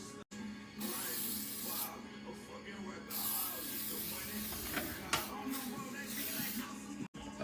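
An aerosol spray can lays a quick thin coat onto a car headlight during restoration, a steady close hiss running most of the time with brief cut-offs.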